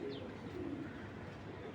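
A racing pigeon coos softly nearby, a low murmuring call rolling through a faint, steady background hum with no voices.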